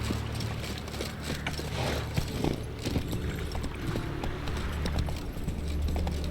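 Horse hooves clip-clop along in The Witcher 3: Wild Hunt, a steady rhythm of hoofbeats mixed into continuous game ambience at moderate level, with no talk over it.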